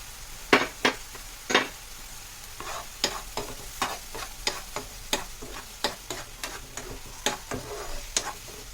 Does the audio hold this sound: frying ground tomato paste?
yes